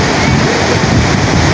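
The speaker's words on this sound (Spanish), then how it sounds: "Esta es la playa de Galveston, en Houston, Texas. Es una playa de agua oscura." Surf rolling onto Galveston beach on the Texas Gulf coast, a continuous loud wash of breaking waves with steady wind noise across the microphone.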